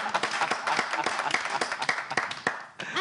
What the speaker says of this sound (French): Il faut applaudir pour ça.